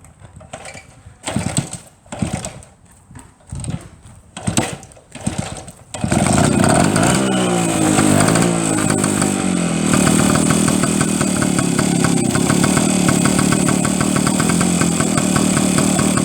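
BSA Bantam motorcycle engine: a few uneven pops and catches at first, then it fires into a loud, continuous, buzzing run at half throttle, close by and alone.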